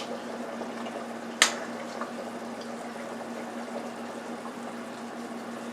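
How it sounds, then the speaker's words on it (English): Chicken and onions simmer in broth in a pot, a faint, soft bubbling hiss that continues steadily, with one brief sharp clink early on and no talking. "the chicken and onions has been boiling for about 20 minutes"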